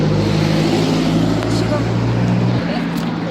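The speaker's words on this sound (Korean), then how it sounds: "차들이 지금 계속 다니고 있어서 시끄럽고" Steady traffic on a city street on the way home from a library, cars passing in a continuous low rumbling wash with a slight dip and swell partway through, loud and close throughout.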